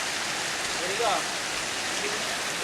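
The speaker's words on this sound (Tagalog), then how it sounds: "Malakas na yung ulan, malakas pa yung hangin" Steady heavy typhoon rain pours down with a constant hiss in Malabon, gusting wind mixed in, and a faint voice briefly in the background.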